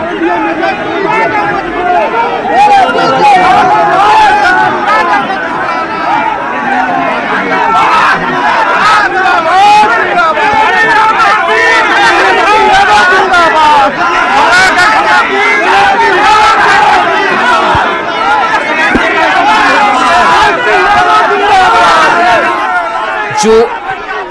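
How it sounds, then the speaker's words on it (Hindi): A dense crowd of political party workers presses around Tejashwi Yadav, a continuous loud roar of shouting and chanting voices with overlapping babble and occasional cries, sustained and close throughout. "लोगों की भीड़ है, कार्यकर्ताओं की जो भीड़ है वो नजर आ रही है"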